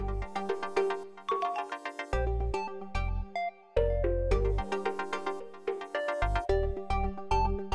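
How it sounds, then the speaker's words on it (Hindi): A melodic phone tone announces an incoming text message late at night, a repeating chiming tune with a steady beat that plays loudly for several seconds with no voices over it. "आनंद का मैसेज है"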